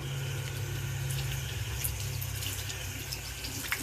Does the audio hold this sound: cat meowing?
no